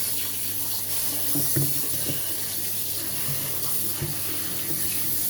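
A tap runs steadily as white snow fungus is rinsed beneath it, with faint handling knocks and splashes under the constant water flow.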